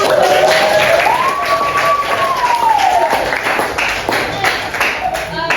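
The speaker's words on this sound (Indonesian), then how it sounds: "Tepuk tangan dulu." A high school class gives a round of applause, many hands clapping together in a steady patter while a voice and some classroom chatter carry over it.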